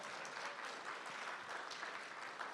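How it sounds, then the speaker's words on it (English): An audience gives a round of applause at a political talk, with many hands clapping in a steady, even wash that stays faint and distant throughout. "We should all give her a round of applause."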